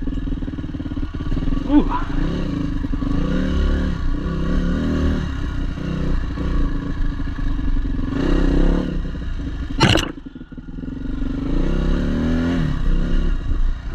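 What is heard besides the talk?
WR400F dirt bike riding on a trail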